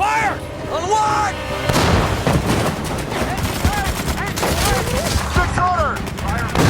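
Tank main gun firing in infantry combat, heavy booming blasts mixed with rattling gunfire and shouted commands throughout, loud and chaotic.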